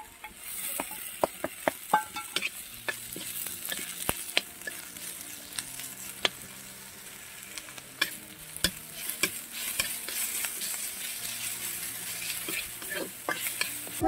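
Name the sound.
onions and chopped garlic frying in a pan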